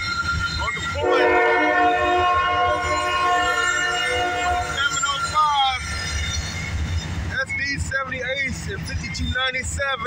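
A CSX southbound mixed manifest freight led by an ES40DC locomotive passes in Dayton, Ohio, sounding loud, close, sustained horn blasts, then rumbling wheels and squealing railcars, with voices talking over it.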